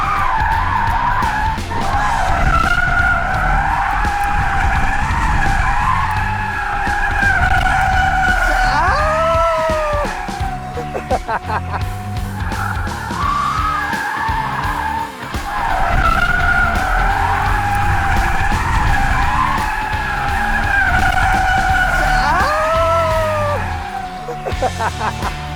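Korean electric car drifting on a track, tires squealing in long wavering screeches that rise and fall through two extended slides, with the motor whining underneath and brief gaps between.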